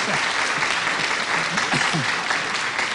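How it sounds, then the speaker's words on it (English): A studio audience applauds a performer on a 1972 Christmas television show, with steady dense clapping throughout and a voice talking over it. "let's give him another round of applause"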